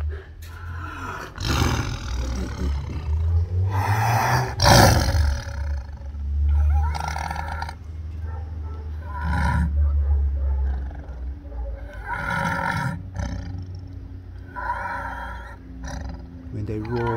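An animal roars with a strained, rasping intake of breath, the deep calls rising and falling several times at close range while a person talks over them.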